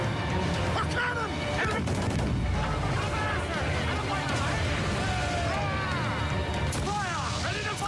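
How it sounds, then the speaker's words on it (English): Cannon fire during naval combat in the video game Assassin's Creed 4: Black Flag, heavy booms and crashes repeating throughout, layered with crew voices and battle noise. "A cannon!"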